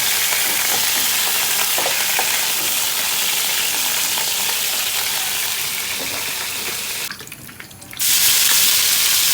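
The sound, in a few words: food being lightly fried in a pan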